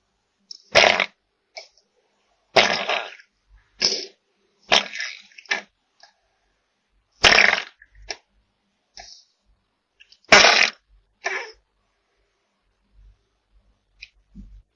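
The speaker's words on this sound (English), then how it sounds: "It's a baby ball python, and it's basically farting. You can hear that noise it makes when it expels gas" A baby ball python expelling gas, a series of short, sharp sputtering bursts separated by silent gaps, close and fairly loud, with no talking.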